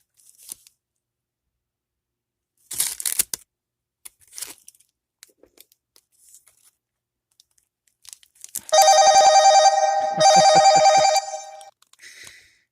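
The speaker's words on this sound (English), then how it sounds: "Sorry for the ringing." After scattered rustling and crinkling, a telephone rings loudly in two long bursts with a short gap between them, and a fainter sound follows.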